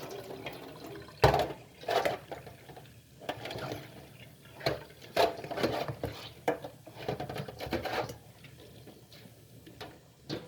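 Bitter leaf being washed in water by hand, with irregular splashes, swishes and squelches in uneven bursts, close by and moderately loud.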